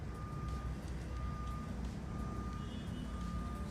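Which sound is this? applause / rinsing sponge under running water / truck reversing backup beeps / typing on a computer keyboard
truck reversing backup beeps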